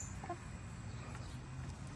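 A backyard rooster gives a few short, soft clucks close by against a low, steady background hum, with no one speaking.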